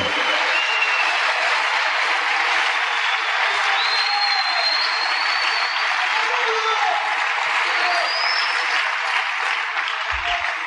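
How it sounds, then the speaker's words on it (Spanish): A church congregation claps together at a service, loud, sustained applause from many hands that fills the room for about ten seconds with a steady, even texture. "A ver, palmas para el Señor."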